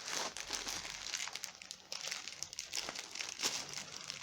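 Plastic packaging of TENA Discreet pads being opened, a close, continuous crinkling and rustling with irregular sharper crackles throughout.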